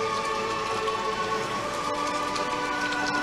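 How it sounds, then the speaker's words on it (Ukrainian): Steady rain falls at a Ukrainian First League football match between Hirnyk-Sport and Metalurh, making a constant, even hiss of drops on surfaces. No one speaks over it. "Не зупиняється дощ."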